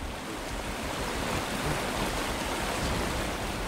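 Water pours into a river in Batman: Arkham Asylum as a steady, dense rushing flow, constant and moderately loud with no voices over it.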